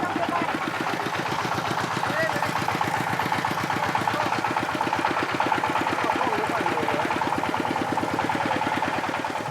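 An improvised truck engine chugs and sputters in a fast, steady rhythm of knocking pulses, echoing off mountains in drizzle, loud and close, running continuously throughout.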